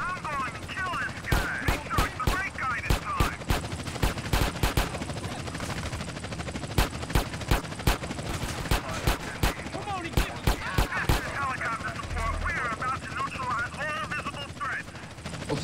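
Helicopter rotor noise and repeated bursts of gunfire from the video game GTA San Andreas, sharp shots in rapid clusters over a steady engine drone, with someone talking over the game action.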